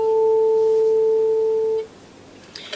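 A 442 Hz tuning fork rings as a steady, pure sustained tone for nearly two seconds before cutting off, leaving near silence with a couple of faint soft knocks at the end.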